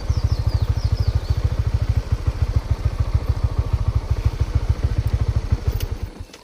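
A motorcycle engine chugs loudly nearby with a rapid, even thumping beat that holds for several seconds, then fades as it moves off, with faint bird chirps early on.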